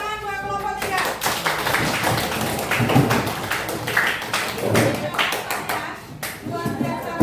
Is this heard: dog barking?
no